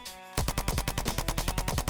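Rapid automatic gunfire from the video game DayZ rattles in a fast, steady burst of shots after a brief quiet moment.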